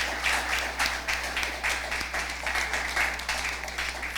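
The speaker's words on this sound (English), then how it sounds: "Please give them a round of applause." An audience applauds schools at a junior science quiz competition in Antigua and Barbuda, with steady, moderately faint clapping in a hall over a low constant hum.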